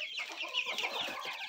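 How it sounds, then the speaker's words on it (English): Chickens cluck continuously at a grandparents' farm, several birds close by with overlapping busy calls and no talk. "so my cousin, Peyton, she caught a chicken"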